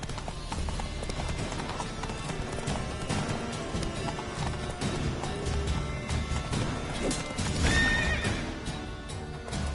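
Roach the horse from the Witcher 3 video game gallops with steady drumming hooves and a loud whinny, set against a dense, continuous game soundscape, with no voices heard.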